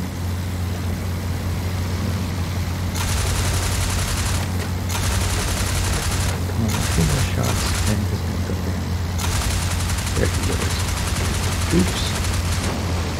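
Rapid machine gun bursts from a World War I biplane in the IL-2 Flying Circus flight game, rattling fire in several long stretches over a constant engine drone, with a brief spoken exclamation.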